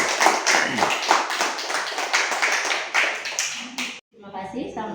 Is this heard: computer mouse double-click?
no